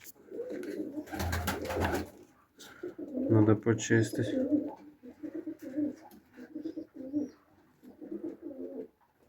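Pigeons coo and flutter in a loft holding Pakistani and Turkish breeds, some birds sick with trichomoniasis, with bursts of calls near the start and middle while someone talks over them.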